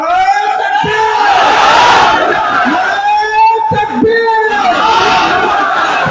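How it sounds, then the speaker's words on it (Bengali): A large crowd at a Jamaat-e-Islami rally in Bauphal roars a takbir in unison, loud and sustained, with repeated swelling shouts from many voices close around. "বাউফলবাসী একটা তাকবীর দেন"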